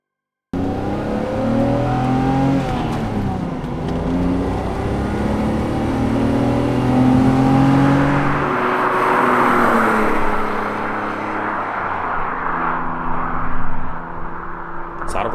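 A 1988 BMW E24 M6, a moderately heavy 1980s grand touring car, driving with a steady engine drone that rises and falls through gear changes, heard from inside, continuous and fairly loud with no talking.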